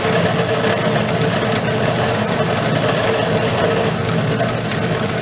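A fine-bristle Grobet carding wheel spins on a motor against twist-pattern Damascus steel gun barrels, making a steady, loud, even hum with a soft brushing hiss throughout and no pauses.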